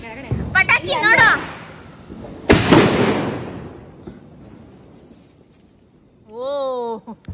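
Firecrackers burst in the sky outdoors, one sharp loud bang followed by a long fading rumble, with people talking nearby before it and a voice afterward.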